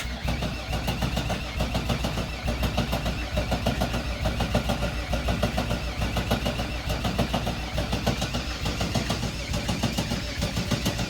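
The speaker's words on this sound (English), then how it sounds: "Manual crank up." A VW MK1 GTI engine is cranked over on the starter after an engine swap, a loud, steady rhythmic churning that runs for about eleven seconds without catching, with no talking.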